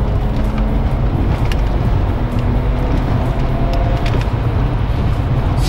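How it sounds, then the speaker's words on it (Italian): A BMW E46 accelerating after gearbox and differential servicing, heard from inside the cabin as a steady, loud, low engine and road drone with no talk. "Basta dare un po' di gas e sentiamo la macchina proprio volare."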